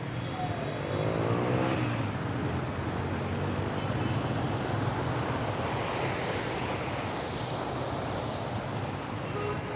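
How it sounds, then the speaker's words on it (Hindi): Rush of rainwater waves on a flooded street in Gulberg, pushed along by passing cars, a continuous loud surf-like wash mixed with tyre and engine noise and some wind buffeting, no voices. "बारिश के पानी की जो लहरें आप देखें जिस तरह से आ रही हैं, गाड़ियों के साथ चलती चलती आती हैं लहरें"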